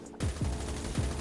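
Rapid automatic gunfire in COD Mobile with a rolling chain of loud, punchy bursts, and a few heavier low thumps inside about a second of steady shooting.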